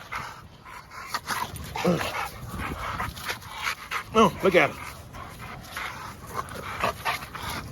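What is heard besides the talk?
large bully puppy dog barking and panting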